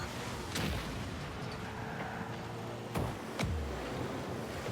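Cars exploding in the Rocket League video game, with sharp bursts rising out of a steady wash of game noise; a few loud broadband blasts, each followed by a low rumbling tail.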